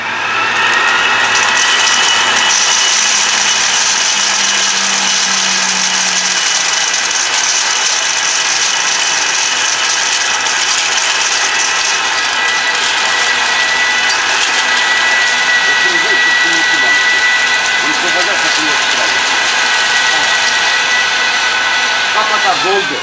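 A pneumatic sampling probe runs with a loud, steady mechanical whir and rattling buzz, continuous throughout, with a brief low hum early on.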